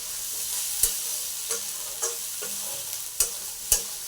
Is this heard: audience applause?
no